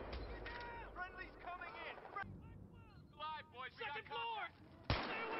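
RPG rockets fire and explode in the Battlefield 3 campaign, with a heavy boom at the start and a sharp blast near the end, while voices talk and shout over the game sounds.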